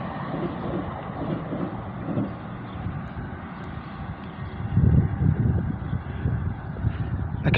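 A Great Western IET train rushes past on the main line, its wheels rumbling and clattering over railway points in a steady low roar that swells louder near the end.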